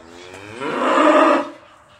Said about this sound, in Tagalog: Ito po ang camel.